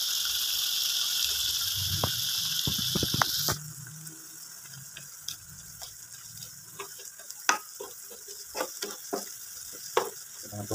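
Galangal and sliced onion with spices fry in a pan as a close, steady sizzle, joined by a few scraping stir strokes, then softer hissing with scattered small pops and ticks.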